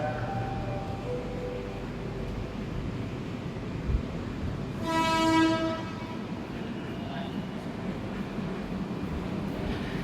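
An INKA-built KRL electric commuter train at Manggarai station hums under a constant rail and platform rumble, and a short horn tone sounds about halfway through.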